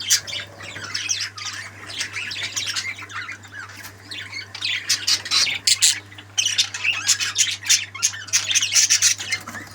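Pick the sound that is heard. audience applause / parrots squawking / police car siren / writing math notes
parrots squawking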